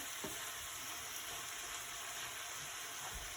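Ground meat fries quietly in a pan, a faint, steady sizzle with a soft hiss and an occasional light scrape, heard alone without voices.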